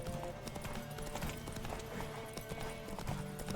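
A horse gallops in The Witcher 3 with a steady, rhythmic clip-clop of hooves throughout, quiet and unbroken, with no voices over it.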